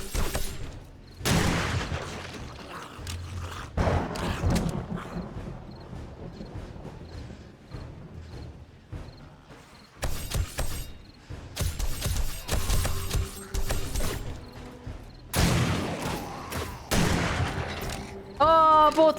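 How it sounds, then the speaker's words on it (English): Shotgun blasts during a zombie horde night in 7 Days to Die sound as loud, repeated booming bursts with rattling gunfire texture, while someone talks between the shots. "Feel the impact of my shotty."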